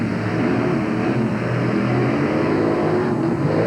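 Two monster trucks, the Equalizer and Carolina Crusher, race side by side at a 1989 event, their big engines giving a steady, loud, dense roar without a break.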